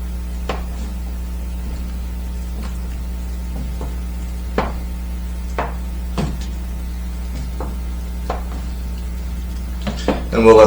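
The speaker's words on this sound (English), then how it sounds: "So now we're going to have to stand here and mix it." A spoon stirs an onion and garlic stew in a cooking pot, giving sporadic light clinks and scrapes against the pot every second or so over a steady low electrical hum, with a louder clatter near the end.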